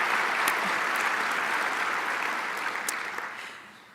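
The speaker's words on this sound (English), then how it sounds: "I'd like to give a round of applause to Michelle Sahovsky one more time" Audience applause at the MindShare 2014 event: a steady, dense clapping from a large crowd, sustained and loud before tapering off in the last second.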